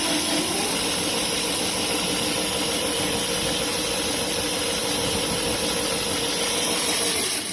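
Electric motor of a homemade power racing kart revs up at a makerspace, a steady loud whine and hum with hiss that holds throughout without pause.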